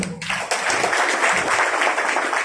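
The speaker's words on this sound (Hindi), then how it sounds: "इनके लिए हम चाहेंगे बढ़िया जोरदार ताली हो।" An audience claps for a man called up onstage at a business gathering. After a brief sharp sound at the start, a thick, steady round of applause builds and carries on evenly with no talking.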